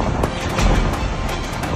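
Strong, steady typhoon wind roars close to the microphone, a dense rushing noise with gusty bursts and no voices.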